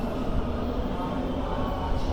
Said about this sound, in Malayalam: ഇപ്പോൾ 1 മിനിറ്റിൽ മെട്രോ വരും. ഫുൾ അണ്ടർഗ്രൗണ്ടാണ്.